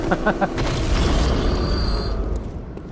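A Bloodborne weapon's R2 ranged beam attack fires with a short burst and rumbling boom, followed by a sustained shimmering tone that fades out.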